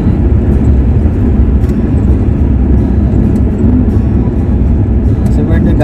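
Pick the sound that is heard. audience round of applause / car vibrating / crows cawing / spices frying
car vibrating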